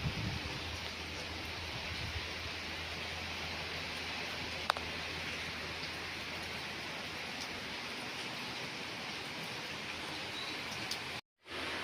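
Steady rain pours down outdoors near the Ganga river under heavy dark clouds, a continuous broadband hiss at even loudness throughout with no talk, briefly cut off by a short dropout near the end.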